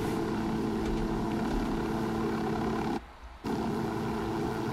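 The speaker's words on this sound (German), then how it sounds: "Wir fliegen übrigens gerade ganz normal, also ich habe den Helikopter nicht beschleunigt." A helicopter flies in the video game Ghost Recon Wildlands, giving a steady, loud rotor and engine roar that drops out briefly for a moment before returning.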